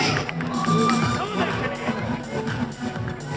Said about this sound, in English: a huge round of applause for all the remaining Pro Bikini athletes as they make their way